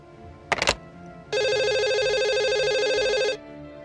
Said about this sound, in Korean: 곧바로 다시 전화벨이 울렸어